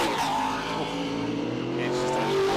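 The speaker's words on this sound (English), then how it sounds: "It's just something about a screaming V8." A screaming V8 Ford Mustang stock car races past at Winton Raceway during an Australian NASCAR event, its loud engine note rising and sweeping through the pass, close and dominant throughout.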